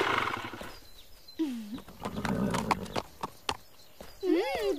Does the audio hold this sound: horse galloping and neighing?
yes